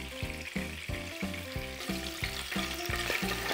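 Milkfish (bangus) partially frying in hot oil, a dense, continuous close sizzle and crackle, loud and steady throughout, heard alone under light background music with no talking.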